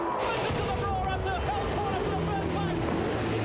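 Race cars charge off the start of the Bathurst 1000 at Mount Panorama, a pack of engines whining and rumbling together while a commentator talks over them.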